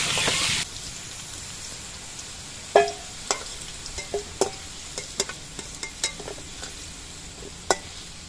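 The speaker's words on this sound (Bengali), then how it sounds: "আলুগুলো ভাজার সময় এর মধ্যে আমি অল্প পরিমাণ নুন দিয়ে দিচ্ছি।" Potato pieces frying in oil with a little salt added, a low steady sizzle broken by a string of sharp clicks and taps as they are stirred, with no voices.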